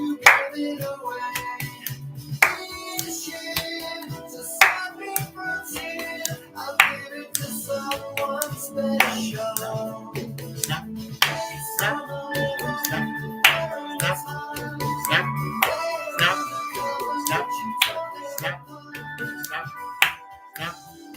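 A music teacher performs a body percussion rhythm in his studio, with crisp finger snaps and claps in a steady repeating pattern alongside lower thumps, close and clear.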